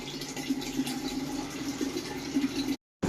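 Water runs steadily from a repaired household water machine after a faulty valve was fixed, a continuous close filling hiss and trickle that cuts out briefly near the end before resuming.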